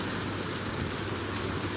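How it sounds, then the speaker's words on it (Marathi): Heavy rain pouring steadily during an outdoor Sunday chor handi pot-breaking festival, a dense broadband hiss filling the clip without pause, loud and close with no clear voices. "पाऊस बघा एवढा आहे."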